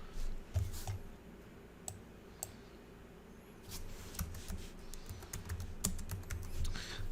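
Close computer keyboard typing in short uneven bursts of crisp key clicks, with a quiet pause between flurries and no talking.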